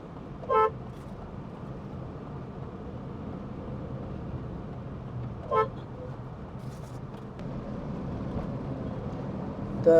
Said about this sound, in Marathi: इथे थोडीशी ट्रॅफिक आहे,